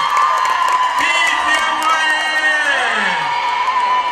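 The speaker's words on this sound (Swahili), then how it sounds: "Makofi kwa Steven Nyerere." A large crowd at a political welcome rally in Mtama cheers loudly, with overlapping whoops and rising, falling shouts filling a steady roar of voices.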